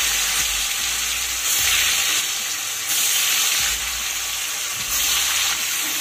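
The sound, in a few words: paneer frying in refined oil in a wok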